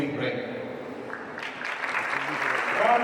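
A crowd claps and cheers steadily, the applause swelling slightly louder toward the end, with voices mixed into the noise.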